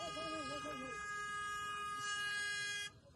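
A vehicle horn blares in a sustained, steady tone for nearly three seconds amid traffic on the way to the Maha Kumbh at Prayagraj, then cuts off. Voices talk underneath at the start.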